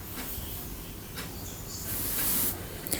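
Bitter gourd frying in a pan hisses and sputters as a splash of water hits the hot oil, the steamy sizzle swelling loudly for about half a second before easing back to a steady crackle.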